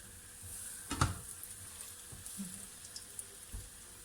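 Flour-coated fish frying in hot oil in a pan, a faint steady sizzling hiss with a few soft clicks and bumps, quiet and close, with no talking.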